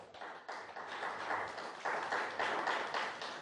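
A church congregation applauding during a Spanish-language sermon, steady moderate clapping from many hands that continues throughout with no talking.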